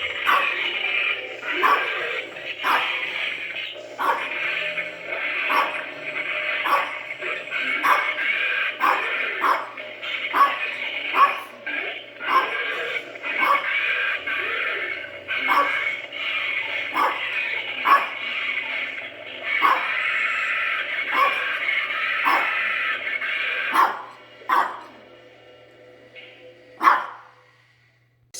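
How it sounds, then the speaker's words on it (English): A dog barks over and over in quick, loud bursts near the microphone, with some whimpering yips between barks and a brief pause near the end. "So sorry about my dog barking in that clip."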